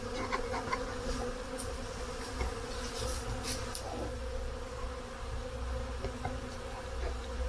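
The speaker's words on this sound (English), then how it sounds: "The bees. It's so good to have bees." Dense, continuous buzzing of many bees close by, a steady drone that never lets up, with occasional louder individual passes.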